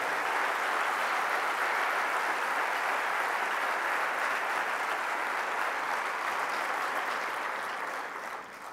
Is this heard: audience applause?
yes